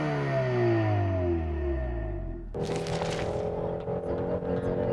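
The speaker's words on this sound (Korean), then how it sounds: "일반 모드인데도 배기음 사운드가 가상 액티브 사운드긴 하지만 사운드 자체가 꽤 괜찮고요." Virtual active exhaust sound of a Hyundai Sonata N Line 2.5 turbo in normal mode: a droning engine note that rises, then a sharper, louder surge of revving with a dense, sustained tone.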